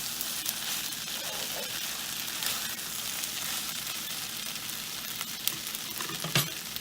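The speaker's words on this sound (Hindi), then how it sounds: "पास्ता को मिक्स करदेवा" Vegetable cheesy masala pasta is mixed in a pan, giving a steady broadband sizzle with soft scraping stirs and a sharper clink near the end, moderately loud and close.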